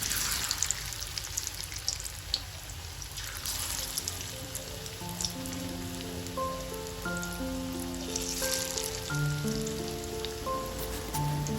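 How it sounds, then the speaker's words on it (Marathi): Spinach pakoras (bhaji) fry in hot oil in a kadai with a steady, dense crackle and sizzle, heard up close beneath background music. "सर्व भजी तेलात सोडून झाल्यानंतर गॅसची फ्लेम मध्यम ठेवून भजी दोन्ही बाजूनी लालसर रंग येईपर्यंत तळून घेतली आहेत"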